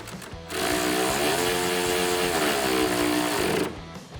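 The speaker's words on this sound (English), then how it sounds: "Grab your 10mm socket and tighten it down." A power tool with a 10mm socket whirs loudly for about three seconds tightening a bolt, its pitch dipping and rising as it works, then stops; no talking.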